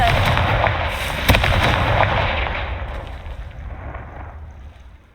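A blasting curse in Hogwarts Legacy goes off as a loud, close explosive boom with crackling bursts, then a rumbling tail that fades over several seconds.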